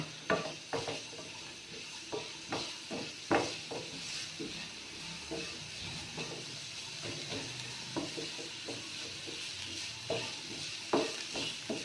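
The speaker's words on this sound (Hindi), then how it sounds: "प्याज के साथ इसकी भुनाई कर लेंगे ताकि हमारे मिर्च मसाले जो से हैं ये भून जाएं।" Onions fry in a pan with turmeric, garam masala and red chili powder, a soft continuous sizzle broken by repeated scraping stirs of a spoon at an irregular rhythm, close by and fairly quiet, with no voices.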